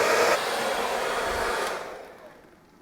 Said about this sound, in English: The hair dryer gets it close to 130